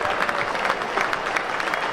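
A cricket crowd at Sophia Gardens applauds steadily after a batsman is out in a Glamorgan versus Somerset T20 Vitality Blast match, dense clapping from a large gathering throughout.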